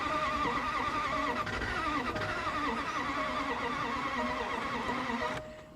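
A Range Rover engine cranks over and over without catching, a steady labored whirring that runs loud and unbroken for several seconds before cutting off near the end.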